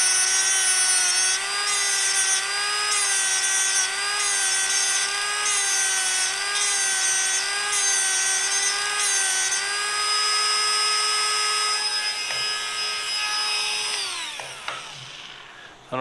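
A PowerPoint tungsten grinder driven by a Milwaukee drive spins a diamond wheel to sharpen a tungsten electrode. A loud, steady, high-pitched motor whine carries for most of the clip, then winds down and stops.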